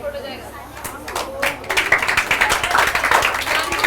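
Students and guests clap at a school farewell celebration, scattered claps swelling into a fuller round of applause with some voices and chatter mixed in.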